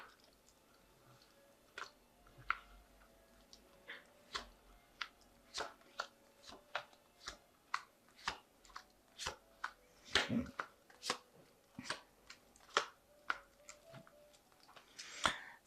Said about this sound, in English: I'm just going to draw some cards from it.